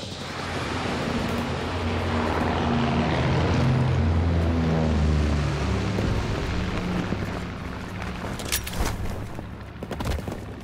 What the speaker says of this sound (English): Enemy recon aircraft in the air.